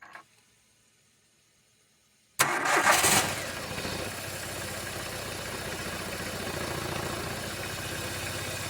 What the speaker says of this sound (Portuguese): vamos agora funcionar o carro, dar partida no carro, ver como que ele está funcionando